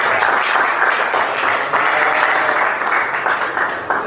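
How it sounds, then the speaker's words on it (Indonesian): Students in a classroom clap for a group that has just presented, the steady dense applause sustained for a few seconds, close and fairly loud. "Tepuk tangan untuk kelompoknya."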